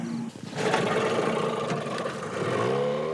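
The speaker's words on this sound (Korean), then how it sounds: "고작 15마력의 엔진이 달린 작은 고무보트가 어두운 밤바다로 향합니다" A small rubber boat's 15-horsepower outboard engine drones and revs on a dark night sea, a loud, close, rough motor note that surges after a brief dip and holds steady, with clattering and splashing mixed in.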